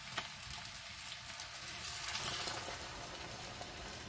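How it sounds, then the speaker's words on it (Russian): Potatoes tossed into a pan of fried onions with broth poured over them, a steady soft sizzle and bubbling at close range, without speech. "бросаю картошку и заливаю бульон"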